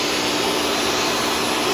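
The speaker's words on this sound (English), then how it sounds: "this is a really nice little vacuum." A Shark self-cleaning vacuum cleaner runs with a loud, steady motor whine and airy rush, unbroken for the whole moment with no talking.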